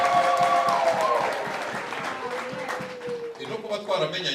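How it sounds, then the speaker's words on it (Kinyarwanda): A church congregation claps during a worship service, a steady wash of many hands that stays loud throughout, with a tonal hum and voices mixed in underneath. "Whoever happy, then clap for your Lord."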